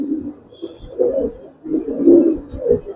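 Giribaz pigeons coo in low, soft, rolling calls, several throaty phrases in close succession, near and clear over a quiet background.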